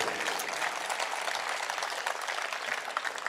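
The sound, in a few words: audience applause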